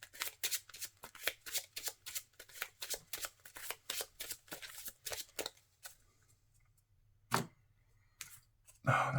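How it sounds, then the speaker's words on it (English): Playing cards are shuffled close up during a Marvel Champions card game session, a fast, rhythmic run of crisp riffling flutters for about six seconds, then a pause and a couple of separate card snaps and slaps near the end. "Shuffle 3 back into my deck."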